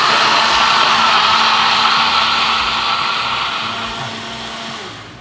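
An electric blender grinding young coconut sambal runs loud and steady in a kitchen, a continuous whirring roar that gradually eases toward the end.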